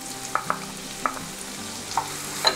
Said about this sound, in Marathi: हे आपल्याला परतवून घ्यायचे आहेत तेलावर